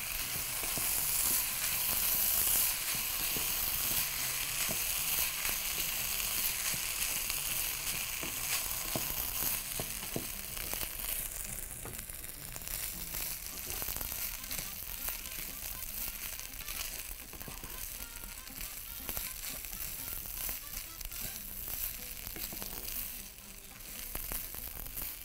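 Basmati rice and pistachios sizzle and fry steadily in a hot pan while being stirred, a continuous close crackling hiss with occasional scraping, no talk.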